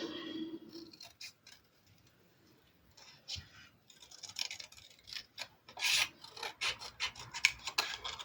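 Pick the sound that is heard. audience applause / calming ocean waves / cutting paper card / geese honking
cutting paper card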